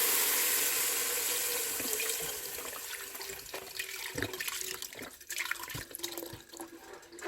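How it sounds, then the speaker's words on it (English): Chicken broth pours into a cooking pot in a continuous, hissing liquid rush that starts strong and gradually thins and softens, heard up close without speech. "And then we're going to add in the chicken broth."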